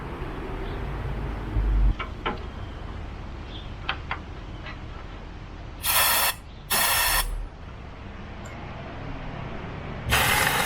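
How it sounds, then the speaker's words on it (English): Short bursts of compressed air hiss through the pipe of an old Coleman camping stove, two close together and then one more, over a low background hum with a few small mechanical clicks. "we're going to try pumping some air through it instead"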